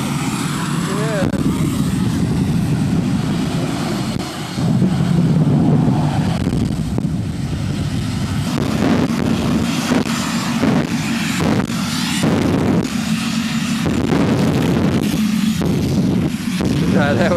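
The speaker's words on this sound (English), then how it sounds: "They just have both the jet cars going" Two jet cars run at a beach classic car show, a loud continuous roaring whoosh with surging turbine noise and wind buffeting, people talking and exclaiming over it.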